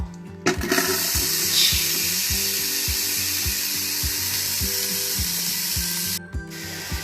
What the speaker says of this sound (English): I hear the sound of the onions hitting that oil